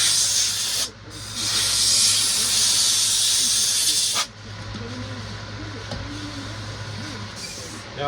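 WD-40 sprayed onto the bar of a Stihl MS260 chainsaw to clear out gunk: a loud, close aerosol hiss, broken by a short pause after the first second, then a longer burst that stops abruptly, leaving a quieter background.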